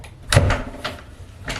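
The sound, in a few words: door being rattled and forced open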